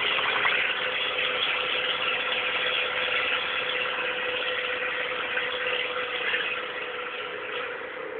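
A Peugeot 106 with a 1.1-litre engine and no exhaust drones steadily while driving, a constant muffled mid-pitched roar with no gaps and no talking.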